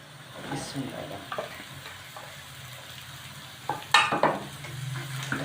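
Potatoes fry with golden-browned onions in a pan for a capsicum potato dish, a soft sizzle under intermittent spoon stirs and clatter, louder near the end.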